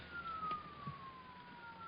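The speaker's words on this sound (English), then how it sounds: "Those are police cars, Tony, coming here." Police car siren in an old-time radio detective drama, a single steady wail sliding slowly downward, faint and distant under a low background hiss, with no voices.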